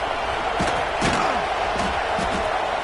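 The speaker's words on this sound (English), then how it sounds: "you just know the home crowd is loving this" Home crowd roaring at a college football game, Ohio State against Penn State, a dense, steady stadium wash of cheering with a few sharp shouts and thuds rising out of it, close and loud throughout.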